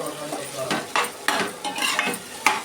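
Potato fry is stirred in a pan over a medium flame, a close frying sizzle with repeated scraping and clinking strokes of a utensil against the pan, without any talking.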